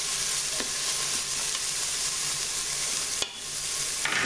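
Onions frying in a pan while being stirred, a steady loud sizzle with soft scraping of a utensil and a brief clatter near the end, no talk.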